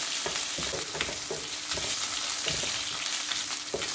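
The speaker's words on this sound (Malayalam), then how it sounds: "ഇതും കൂടെ ചെറുതായിട്ടൊന്ന് വരട്ടാം." Chopped ginger and garlic sauté in a pan for a cabbage and egg stir fry, giving a close sizzle broken by repeated short scraping strokes from stirring at a fairly regular pace, with no talking.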